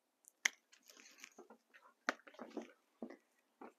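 Sharp, dry crunching and snapping of brittle dead blueberry bush branches being pruned, several quick crackles in irregular bursts, close by with no talking.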